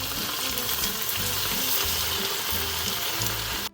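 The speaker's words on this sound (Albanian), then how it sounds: "Dhe e trazojmë derisa të skuqet." Chopped onion fries in hot oil in a pan for traditional Albanian boroni, a dense, close sizzle with soft scraping stirs running beneath it, cutting off abruptly at the very end.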